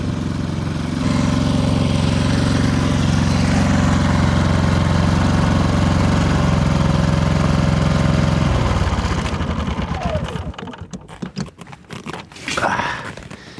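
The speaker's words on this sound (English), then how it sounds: "So, turn off this generator." An RV generator engine drones loud and steady in winter camping conditions, then cuts off partway through, leaving scattered handling noises and clicks.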